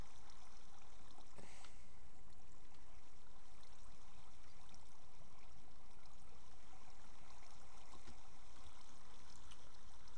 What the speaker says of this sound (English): I need to stop thy water.